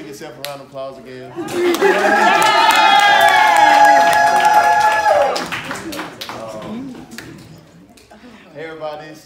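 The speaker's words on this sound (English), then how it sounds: "everybody give yourself a round of applause again" A live audience breaks into sustained applause and cheering with loud whoops, swelling over several seconds and then fading as talk resumes.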